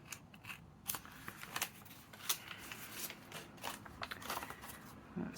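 Fabric scissors cutting paper for a junk journal folio, a series of crisp close snips and crunchy slicing strokes in irregular rhythm, with no talk.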